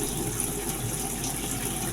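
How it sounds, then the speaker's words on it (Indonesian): Water rushes steadily from a hose into a washing machine drum, a continuous gushing hiss with low churning underneath. "ini air sudah masuk ya"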